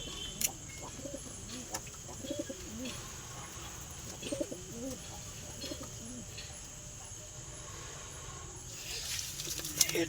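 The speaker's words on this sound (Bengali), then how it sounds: "একটা বাচ্চা পাঠা পায়রা আছে" Domestic pigeons, including a young male, cooing in soft repeated bursts at a household setting, fairly close but quiet against a faint hiss of background noise, with a few brief knocks.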